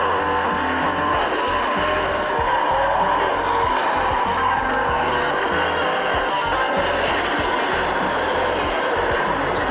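Racing-game car engine drones steadily and loudly with continuous tire and road noise while drifting, played on an Asus ROG Phone 2 mobile racing game, no talking.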